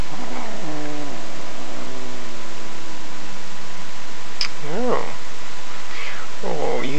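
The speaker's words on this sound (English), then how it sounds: "sweet kitty." A domestic cat meows several times up close, one long wavering meow followed by shorter rising calls, against a faint steady hiss.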